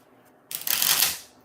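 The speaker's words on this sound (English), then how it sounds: "we're going to do 6 shuffles" A deck of tarot cards is riffled in one quick shuffle, a crisp burst of papery fluttering that starts abruptly, holds for about half a second and trails off, close and clear with no talk.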